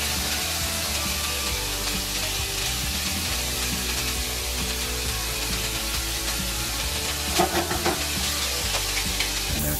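Filet mignon sears in a hot pan, a dense, loud, continuous sizzle with a few brief clatters near the end.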